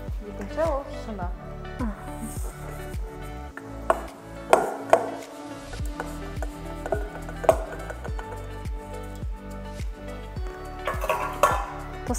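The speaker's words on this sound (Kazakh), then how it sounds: "Тостағанды көтереміз міндетті түрде, сосын араластырамыз." Clinking of dishes and utensils as a bowl is lifted and composite material made from waste residue and glass is mixed, with scraping and knocking sounds under a steady rhythmic pulse and speech.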